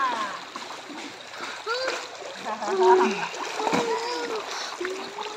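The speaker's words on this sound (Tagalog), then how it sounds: "Naglalaba ng kortina. Labandera ng kortina." Curtains are washed by hand in a river, water splashing and sloshing in irregular bursts close by while several people talk and call out in the background.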